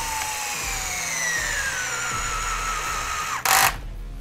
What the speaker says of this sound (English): And then take your 3 millimeter hex driver